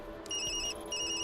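A phone in a video game rings with a bright electronic ringtone, two short bursts of tonal trilling separated by a brief pause, fairly quiet over a soft background hum.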